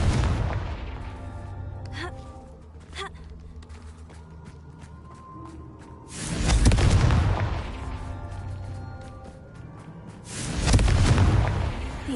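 The Confringo fire spell goes off in Hogwarts Legacy, deep booming explosions landing twice in the latter half with a rumbling tail, after quieter magical clicks and hums earlier.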